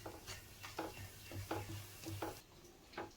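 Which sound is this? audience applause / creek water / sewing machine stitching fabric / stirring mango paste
stirring mango paste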